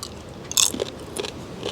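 Dried seaweed gets bitten and chewed up close, making a sharp crunch followed by a few softer crackling chews in a short burst.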